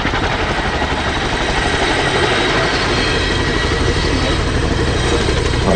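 Chinook twin-rotor helicopter flying at an air show, a loud continuous heavy rotor and engine roar filling the whole clip with a dense low throb, no breaks.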